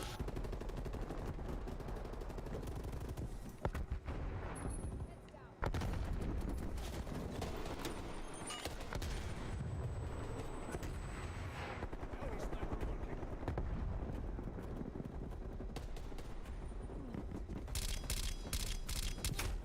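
Sniper and automatic gunfire in an online shooter video game, repeated sharp bursts and shots over a dense battle mix with a brief drop partway, while a player talks over it.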